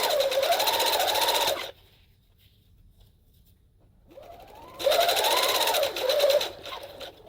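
A sewing machine stitches a shoulder seam in two runs with a pause between them, its motor whirring steadily and the pitch sliding up and down as the speed changes.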